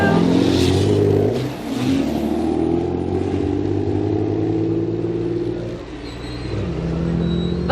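A DAF rally truck pulls away from the start line of a Morocco desert rally, its engine rumbling and revving hard up close, easing off and then climbing again with no talk over it.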